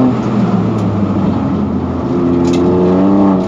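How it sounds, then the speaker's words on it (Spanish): A turbocharged Mini Cooper race car accelerates on a circuit during an official race, with a loud, continuous engine note heard from inside the car. It holds steady, then climbs in pitch toward the end. "acelerando rápido, ya que estos coches tienen que ir a un buen régimen para poder acelerar rápido con el turbo"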